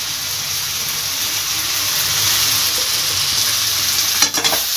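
Ghee and garam masala powder sizzle steadily in a hot pan as a spoon stirs through them, giving a constant frying hiss with a few sharp scraping clinks near the end.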